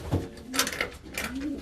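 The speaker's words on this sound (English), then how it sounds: "That there is a young bird down here." A young pigeon cooing in a loft, two soft, low, rising coos a second apart, with faint rustling between them.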